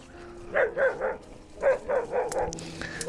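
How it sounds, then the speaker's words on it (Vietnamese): A dog barks in two quick runs of three or four yips beside a dirt road on a rural garden property near Da Lat, heard at moderate distance over steady outdoor background noise. "Có tiếng chó sủa này."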